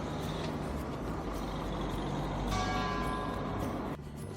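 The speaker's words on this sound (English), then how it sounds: "This was just such a cool corner with these bells ringing" On a busy corner near Vigo, Spain, church bells sound faintly over continuous traffic noise, with one clear bell tone ringing out partway through and fading under the rumble of passing vehicles.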